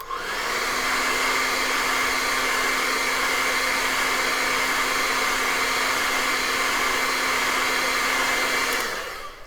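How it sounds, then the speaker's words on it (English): A hair dryer drying acrylic paint blows steadily at close range for several seconds with a constant whirring hum, then switches off near the end. "Let me just dry that real quick. Where'd the hairdryer go?"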